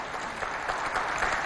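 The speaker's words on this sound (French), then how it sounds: "Applaudissez pour..." A studio audience claps during a women-and-media talk show, a brief, even burst of applause heard at moderate distance with no speech over it.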